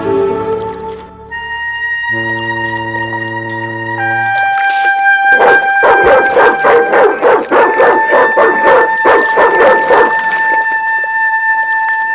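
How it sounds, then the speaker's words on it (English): Dog barking in the Broken Sword 2: The Smoking Mirror video game at a desolate dockside, rapid repeated barks and yelps under a steady tonal musical score. "The dog went berserk for no apparent reason."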